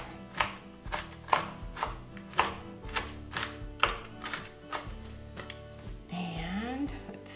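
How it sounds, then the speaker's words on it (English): A knife chops watermelon salad ingredients on a board in a steady run of about fourteen crisp, close strokes, with no voices. "finish chopping this up"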